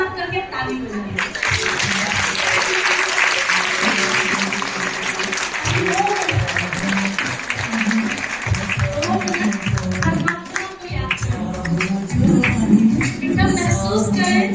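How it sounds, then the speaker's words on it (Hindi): Loud applause from an audience at a Sindhi community gathering, hands raised as they clap, with music and a voice carrying over the steady clapping throughout. "और ऊपर हाथ करके ताली बजाएं"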